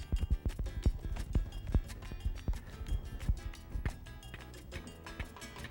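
Horse hooves clopping on the ground at an uneven walking pace, close and fairly clear, with no talking.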